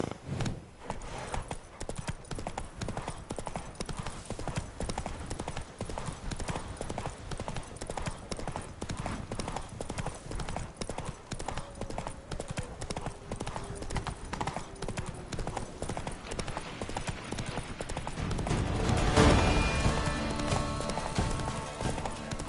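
Roach the horse gallops in The Witcher 3, a fast, continuous run of hoof clip-clops up close, with a louder rushing swell near the end over background game sound.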